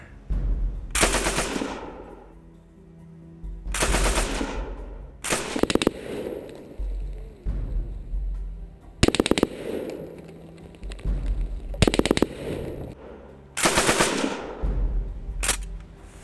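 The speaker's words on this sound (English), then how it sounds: "a nice machine gun" A Lewis gun machine gun fires in long automatic bursts, five or six loud rattling strings of shots separated by short pauses, with no talking over it.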